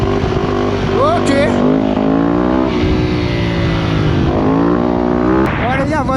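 A 250cc dirt bike ridden through city streets revs hard and continuously, its engine pitch climbing and dropping through gear shifts, loud and close throughout with a voice faintly underneath.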